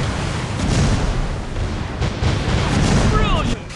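A torpedo strike explodes against an enemy ship in a naval warship game featuring the French destroyer Fantasque, heard as a loud, sustained rumbling boom with battle noise and a voice over it.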